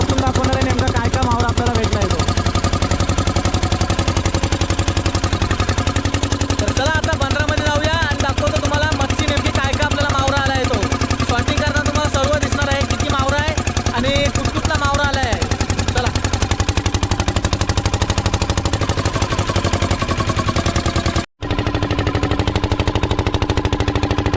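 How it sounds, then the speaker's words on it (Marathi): A fishing boat's engine, on a boat loaded with fish heading to a village harbour, runs with a loud, steady, rapid pounding throughout, with voices talking over it and a brief dropout near the end. "बोटीला स्टार्ट मारली आहे"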